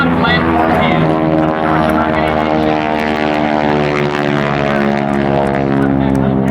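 A propeller-driven aerobatic plane performs at an airshow, its engine a loud, steady, close droning roar with a buzzing harmonic whine that holds through the whole pass.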